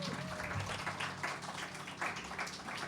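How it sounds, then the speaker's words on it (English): An audience at an outdoor open mic on King Street claps and applauds, a dense, fairly steady patter of many hands across the whole stretch. "Ladies and gentlemen, a round of applause for Chris Kastle once again."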